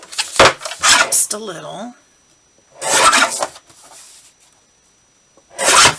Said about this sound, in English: I'm going to trim the top and the bottom off of here.